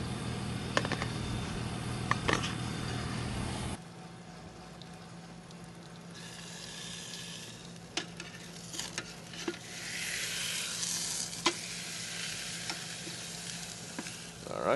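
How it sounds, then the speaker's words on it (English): Meat searing on a cast iron plate fitted to a Weber Q gas grill, a steady loud sizzle and crackle with occasional sharp pops, close and continuous with no talk. "Get a nice sear going on that."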